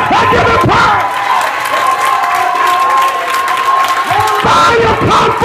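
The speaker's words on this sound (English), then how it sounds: "Clap your hands and give it power." A church congregation at a gospel conference claps and cheers loudly, a dense roar of applause and shouting that swells, dips briefly, then surges again.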